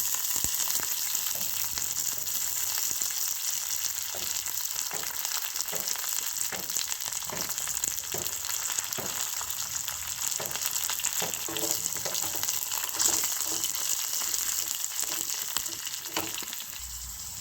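Garlic cloves and curry leaves sizzle steadily in hot oil while being sautéed for a fish curry, a continuous bright crackle with light stirring scrapes, close and alone without talk.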